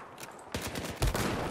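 Gunfire in the video game Battlefield 1, with rapid repeated shots building into a dense burst and a heavier blast near the end, fairly loud and not under talk.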